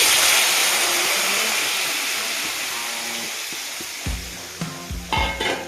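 Loud, steady frying sizzle of vegetables and potatoes as water is added, slowly fading, followed by a few clattering stirs and scrapes near the end.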